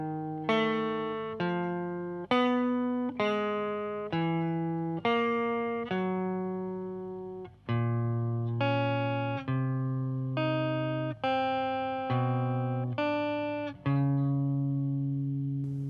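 Electric guitar alternate picking across the two outer strings: a steady run of clean, ringing plucked notes that jump back and forth between low and high pitches in an even rhythm, played alone.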